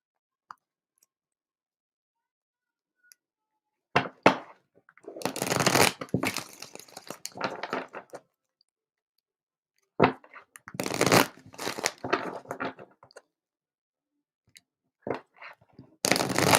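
Tarot cards shuffled by hand during a group reading, in three separate bursts of riffling and clicking, each a few seconds long, with silent pauses between; close and fairly loud, with no talk.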